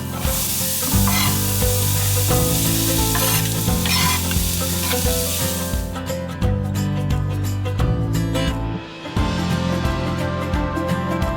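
Onions sizzling and frying in a pan, a continuous bright crackle with intermittent stirring scrapes and clatter, close and fairly loud, easing a little in the second half.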